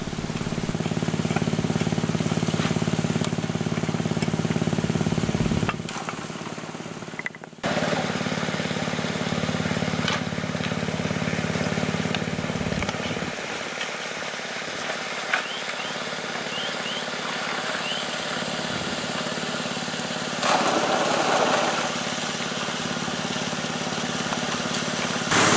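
A small engine drives a homemade gold prospecting highbanker in Ophir, NSW, a steady mid-pitched drone that runs throughout with a few dips and shifts in level.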